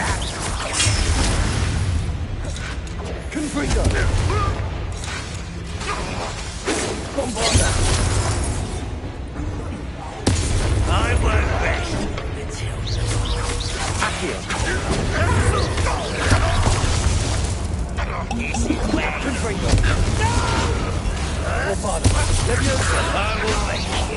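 Confringo blasting spells explode in a Hogwarts video game as a dense, continuous barrage of crashing, booming impacts that barely lets up, with game noise all around.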